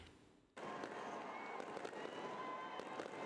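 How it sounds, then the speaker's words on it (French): New Year's Eve fireworks burst over Yamoussoukro at night, a sudden loud onset followed by continuous crackling and popping explosions from a distance. "À Yamoussoukro, feux d'artifice et ambiance de grand jour ont marqué la nuit du 31 décembre."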